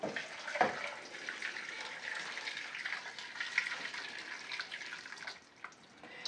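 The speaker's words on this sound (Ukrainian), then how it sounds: "заливаю водичкою, ставлю на газ, заливаю водою." Water pours steadily into a pot of carrots on a gas stove with a broad splashing rush, close by, shifting slightly as the stream lands.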